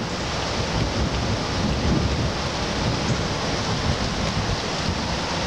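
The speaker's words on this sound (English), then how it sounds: "it started pouring the rain and now it's pretty sudden as you can hear the thunder" Pouring rain during a sudden storm forms a loud, dense, unbroken roar with low rumbling that fits thunder underneath, close and constant throughout.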